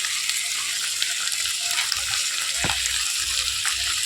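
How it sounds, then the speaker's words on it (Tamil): Potatoes and tomato sauté in a pan for pea kurma, a steady, even sizzle of frying throughout with a soft stirring knock near the end. "உருளைக்கிழங்கையும் போட்டு ஒரு வணக்கி விட்டுருவோங்க."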